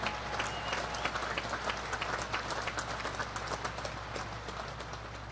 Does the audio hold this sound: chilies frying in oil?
no